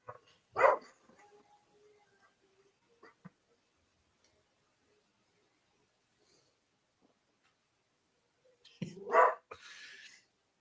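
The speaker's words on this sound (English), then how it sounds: "My dog's barking." A dog barks in two short bursts, one near the start and another near the end, separated by a long stretch of near-silence with faint background noise.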